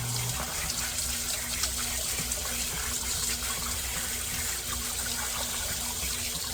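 Water rushes steadily out through the small petcock drain valve of a whole-house water filter, a constant hissing, splashing flow heard close up with no talking.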